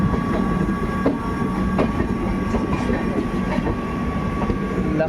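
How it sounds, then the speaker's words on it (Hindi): Train pulling away from platform 4 at an Indian railway station, a steady rumbling roll with rhythmic wheel clatter and a faint tonal hum, heard close and continuous. "ये ट्रेन तो जा रही है प्लेटफॉर्म नंबर 4 पे जी"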